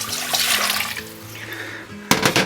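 Water for beef stock with two OXO cubes is poured into a pot for a rump steak pie, a steady splashing pour that ends with a louder, brighter burst near the finish.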